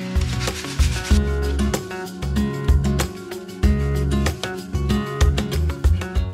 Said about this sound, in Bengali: তো এবার আমি এই স্যান্ড পেপার দিয়ে ভালো করে ঘষে নেবো